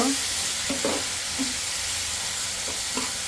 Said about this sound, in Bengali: একটু ধনিয়া গুঁড়া আর জিরা গুঁড়া দিয়ে দিলাম। ভালো করে কষিয়ে নিব।